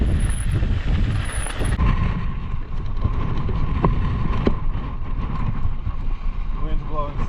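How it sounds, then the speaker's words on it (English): Strong wind gusting up to 50 mph on the summit of Pikes Peak in Colorado, a steady roaring buffet against the microphone throughout, with people's voices shouting faintly underneath. "Wind's blowing sideways."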